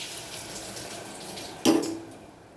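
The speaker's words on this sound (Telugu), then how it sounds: "ఇప్పుడు కాస్త నీళ్ళు పోసుకుందాం" Quiet room tone gives way to a sudden splash of water poured into a pressure cooker over cooked greens, which fades into a short trickle.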